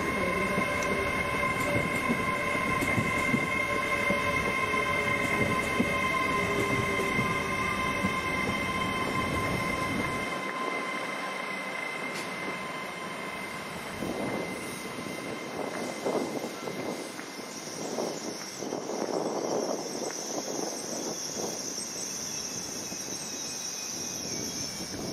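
Trains at Doncaster railway station, with a steady rumble of rolling stock, tonal engine hum and squealing wheels, the low rumble dropping away midway while clattering and hiss continue.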